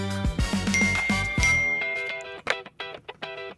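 A phone's message notification chime rings out clearly as a bright repeated ding, followed by a short series of tinkling alert tones.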